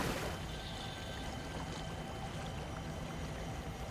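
Water flows steadily in a vibrant desert area of the Satisfactory game world, a continuous rushing, pouring wash that stays even and fairly loud for the whole stretch with no talking.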